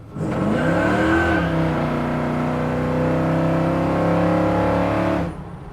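A restomod 1983 Chevrolet C10 truck accelerates at half throttle, its V8-style engine roaring up through the revs, then holding a strong steady pull before cutting off abruptly.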